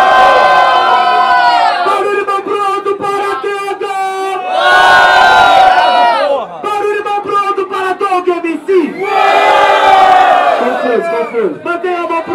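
A loud crowd at a rap battle cheers and shouts in repeated surging waves, with voices rising together, then dipping briefly before roaring again.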